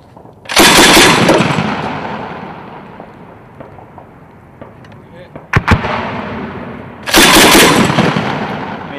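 Marines firing an Mk 19 grenade launcher on a range: two long, loud bursts of rapid automatic fire with a heavy blast, separated by a single sharp report and fading rumble.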